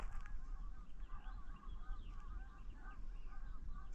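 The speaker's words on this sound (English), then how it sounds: "Some kind of birds out there." Distant honking bird calls repeat in a busy chorus outdoors over a low background rumble.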